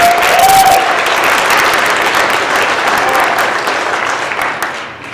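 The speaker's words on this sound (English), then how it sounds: "Please join me in another round of applause for Amelia Hayden" Steady applause from a large crowd at an FFA banquet, loud and sustained throughout, gradually thinning out near the end.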